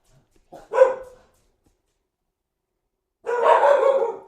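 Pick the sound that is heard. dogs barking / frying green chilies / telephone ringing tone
dogs barking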